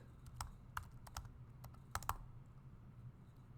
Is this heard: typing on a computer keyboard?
yes